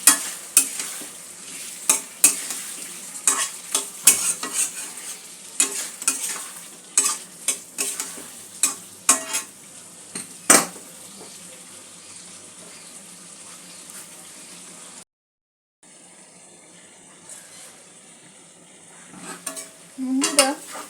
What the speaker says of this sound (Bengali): আবারও সব কিছু ভালো করে মিক্স করে নেব। সমস্ত উপকরণগুলো 2-3 মিনিট আমি কষতে দেব।